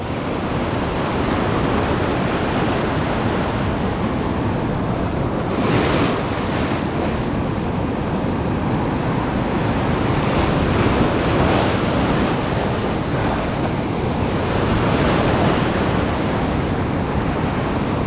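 Rough surf off Montauk breaking continuously in broad, steady washes with a few louder crashes, heavy wind buffeting the microphone throughout and no voices.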